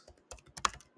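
Laptop keys clatter in a short, irregular burst of several close, crisp keystrokes while dummy Python code is typed into a file, with quiet pauses between taps and no talking.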